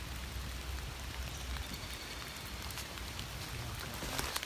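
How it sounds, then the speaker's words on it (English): Water runoff flows and splashes steadily around an overfull rain garden in a continuous broadband wash, faint and unbroken throughout. "a lot of water that's coming around the side of it"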